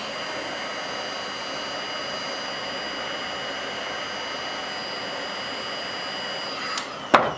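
A heat gun blows a steady, loud hiss of hot air onto thin thermoplastic resting hand splint material. It ends with a brief clatter near the end.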